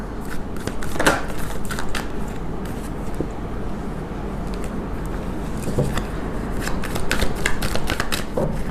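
A deck of tarot cards is shuffled by hand in a steady, continuous riffling and rustling close to the listener, over a low constant background hum.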